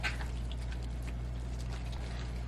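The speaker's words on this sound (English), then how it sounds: "So we're going to start here with some apple cider vinegar." Apple cider vinegar poured onto washed raw meat makes a steady, continuous liquid splashing and trickling, close and even, over a low background hum.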